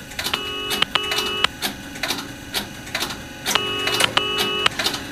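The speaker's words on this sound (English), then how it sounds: "Ringtone." An old-style telephone ringing tone repeats in paired bursts, each double ring followed by a pause, with faint clicks and background noise between.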